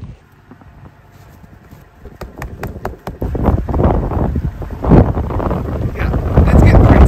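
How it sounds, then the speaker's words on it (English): Wind gusting through a snow storm or blizzard, building from quiet to a loud rumbling roar buffeting the microphone, with a voice speaking over it. "the wind's picking up"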